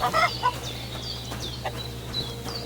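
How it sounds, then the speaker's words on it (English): Chickens in the game Kingdom Come: Deliverance II cluck and chatter in short bursts over a low steady hum, with faint higher chirps scattered throughout. "Those chickens sound pretty real."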